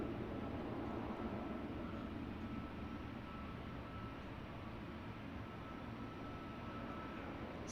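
An EasyJet jet departing Luton airport makes a faint, steady, distant broadband rumble that holds evenly throughout without any voices.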